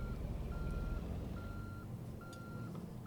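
A truck reverses in American Truck Simulator, its backup alarm sounding steady, evenly spaced electronic beeps over a low idling diesel rumble, fairly quiet and consistent.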